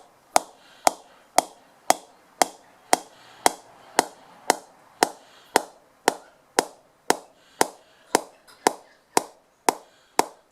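A Viking Valhalla cricket bat is tapped up with a mallet in a steady series of about twenty crisp, evenly spaced knocks, each ringing briefly and sharply at close range.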